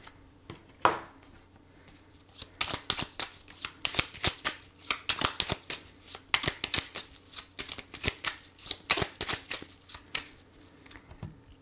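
Oracle cards are shuffled by hand in a card-reading setting, producing a quick, irregular run of crisp riffling slaps and flicks close by, with no voices over them.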